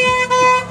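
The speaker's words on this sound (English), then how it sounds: "Honk for Jesus" A car horn honks outdoors in a steady, sustained blast lasting under a second, with a brief dip midway, near and loud, beside a roadside street preaching spot.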